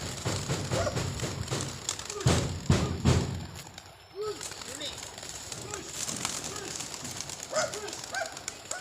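Racing pigeons released at Agas-Agas Bridge make soft, repeated coos among general outdoor bustle. There are occasional thumps and background voices, and the coos come faint to moderate and fairly close.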